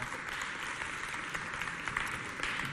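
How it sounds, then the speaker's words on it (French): An audience at a school vacation sports event applauds, making a steady wash of clapping at moderate volume that lasts a few seconds with no one speaking. "On les applaudit bien fort."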